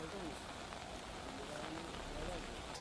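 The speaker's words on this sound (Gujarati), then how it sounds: "વલસાડ જિલ્લામાં વહેલી સવારથી ધોધમાર વરસાદ વરસી રહ્યો છે" Heavy monsoon rain pouring down in Valsad district, Gujarat, a dense, steady hiss of downpour filling the whole moment at low level without a break.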